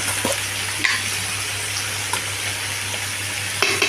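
Ground spice paste sizzles and fries in a hot pan while being stirred, a continuous loud crackle broken by a few sharp scrapes and clinks of the spoon against the pan.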